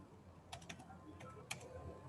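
Soft keystrokes on a computer keyboard during grade data entry: a few light taps come in two small clusters, faint and close, over a quiet room hiss.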